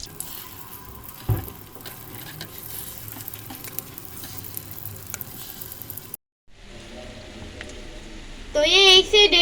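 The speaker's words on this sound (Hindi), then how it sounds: "सब कबाब हम इसी तरीके से फ्राई करेंगे।" Stuffed egg kebabs sizzle steadily in oil in a pan, a continuous close frying hiss with occasional stirring clatter, a brief break, then louder sizzling and scraping at the end.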